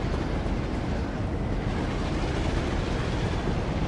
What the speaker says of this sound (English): we just need to give it a few moments for the back end of the train to cross those points